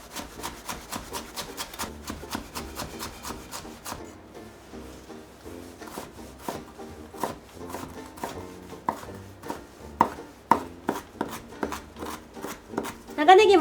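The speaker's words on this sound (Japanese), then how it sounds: "長ネギもみじん切りにしていきます" A knife minces Japanese long onion (naganegi) on a cutting board in a nursery-school kitchen, with quick crisp tapping chops in rapid runs, a short pause, then more brisk chopping, close and fairly quiet.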